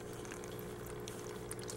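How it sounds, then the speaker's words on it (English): A small waterfall runs inside a tree frog terrarium, giving a soft, continuous trickle and splash of water that stays faint and even throughout, with no talking. "which the waterfall is currently running."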